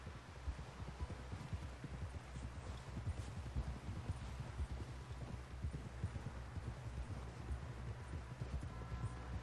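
Horse hooves clip-clop in a steady, rhythmic gait in the video game Red Dead Redemption 2, a continuous trotting beat at moderate volume with no voices.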